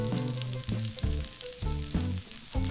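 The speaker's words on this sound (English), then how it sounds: "They're sizzling!" Cartoon food frying in a pan gives a steady crackling hiss, broken into short bursts and layered with bright musical tones in a playful kitchen scene.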